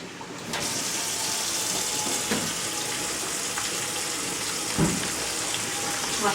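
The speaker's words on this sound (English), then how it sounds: "Wash my hands really quickly." Water runs steadily from a kitchen tap while hands are washed under it, a close, even gushing hiss with a few faint splashes and knocks.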